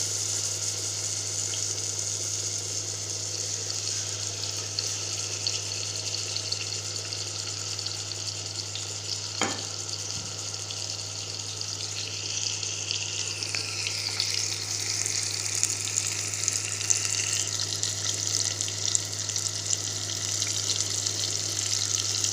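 Quail frying in hot oil, producing a steady, even sizzle and hiss that runs unbroken throughout, with a low background hum and a single brief knock partway through.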